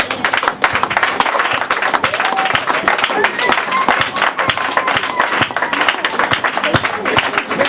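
Church congregation applauding during a worship service, dense sustained clapping from many hands at a steady level throughout, with voices mixed in.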